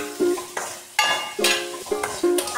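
Apple pickle being stirred in a pan, with a series of distinct scraping clinks of a utensil against metal in an uneven rhythm over a light sizzle.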